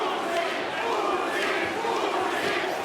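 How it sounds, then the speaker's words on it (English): A capacity crowd inside a boxing arena at the Usyk versus Dubois fight roars and chants in a loud, sustained wash of voices, with a commentator talking over it. "A chance of Usyk from the capacity crowd inside this arena"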